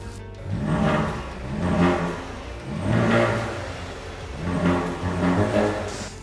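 A GWM car's engine is revved close by in a series of about five throttle blips, each swelling into a roar and falling back to idle in a regular rhythm.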